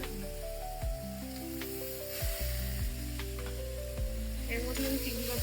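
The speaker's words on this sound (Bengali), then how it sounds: "জল ছেড়ে দিয়েছি, এর মধ্যে চিংড়ি মাছগুলো দিয়ে দেবো।" Prawns go into a pan of cooked-down masala with water for a Bengali malai chingri curry, producing a steady close sizzle broken by several stirring and scraping knocks, with low tonal sounds underneath.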